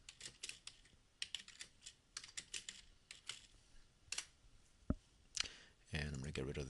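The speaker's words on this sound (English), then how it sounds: "And on the other axes, I'm going to type" Quiet, irregular clicks of fingers typing on a computer keyboard while a chart axis title is entered, in short bursts with pauses, close and soft, ending in a louder rustle.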